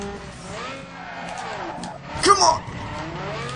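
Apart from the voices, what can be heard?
race cars in a video game circuit race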